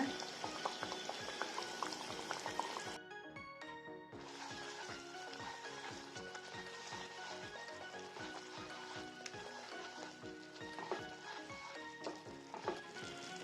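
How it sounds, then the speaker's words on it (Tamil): Sugar syrup is poured into a sweet mixture in a home kitchen, giving a steady liquid pour with bubbling texture and a regular run of soft clicks or taps throughout. "இப்போ இதில் நம்ம ரெடி பண்ணி வச்சிருக்கிற சக்கரை பாகு ஊற்றிக்கலாம்."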